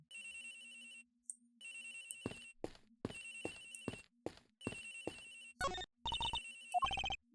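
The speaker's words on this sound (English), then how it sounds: "Sounds like the phone is up in the flight attendant's room." A cell phone ringtone in the Ace Attorney Investigations game, ringing somewhere on board near the flight attendant's room, plays as a repeated melodic tune in short bursts with brief pauses and sharp clicks, clear and alone.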